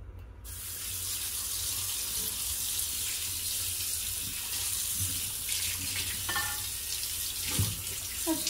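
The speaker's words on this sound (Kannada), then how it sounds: "ಸಿಂಪಲ್ ಆಗಿ ನಾರ್ಮಲಿ ಪಾತ್ರೆ ಹೆಂಗೆ ತೊಳಿತೀರಾ ಹಂಗೆ ತೊಳೆಯೋದು ಅಷ್ಟೇ" Tap water running steadily while a non-stick honeycomb tawa is washed in a sink, with a few clatters and scrubbing knocks near the end.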